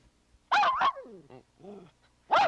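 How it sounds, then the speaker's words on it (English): A dog barks twice close up, the second bark after a pause, with soft whimpering, yip-like sounds between them in a quiet room. "Gene, we've been visited in the balcony by Spot the Wonder Dog once again"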